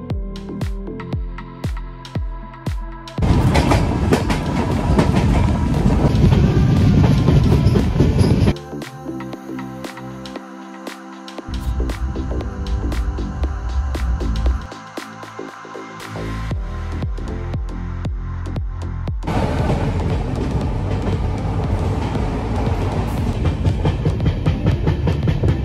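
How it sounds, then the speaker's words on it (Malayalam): A passenger train running on the rails between Kochi and Varkala, heard from on board as a loud continuous rumble with rhythmic clickety-clack from the wheels, the roar rising and falling in sections, with no talk. "ഈ ഒരു ട്രെയിൻ ജേണി എന്ന് പറഞ്ഞൊരു മൂന്നര നാല് മണിക്കൂറേ ഉള്ളൂ"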